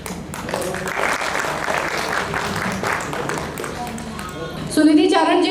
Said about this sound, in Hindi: एक बार जोरदार तालियां इस पूरे डांस ग्रुप के लिए।